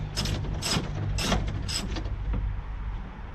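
A ratchet clicks in several short bursts while undoing M10 bolts on a D5 radiator, four quick ratcheting strokes close by followed by a fainter one, with a low hum underneath.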